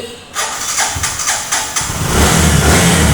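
A Bajaj Discover 125 cc motorcycle cranks with a few quick starter pulses, then catches and settles into a loud, steady close-up idle.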